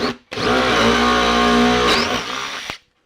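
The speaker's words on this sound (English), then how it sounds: "So I'm going to drill a hole here" A power drill bores a hole through a bandsaw circle jig on a workbench, a single steady whine lasting a few seconds before stopping abruptly, close and unaccompanied by talk.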